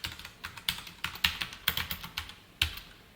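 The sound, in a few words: typing code on a computer keyboard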